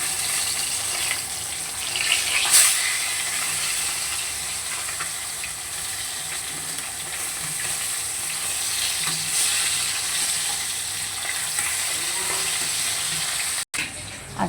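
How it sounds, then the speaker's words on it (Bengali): Fish frying in a pan, with a steady, dense sizzle and crackle that continues throughout, joined by occasional stirring scrapes. "মাছগুলো আগে ভেজে নেবো"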